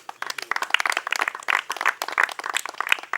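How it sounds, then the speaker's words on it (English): A group claps for their king during a jungle search challenge in Africa, dense continuous applause from several people close by, lasting throughout. "Now you clap for your king"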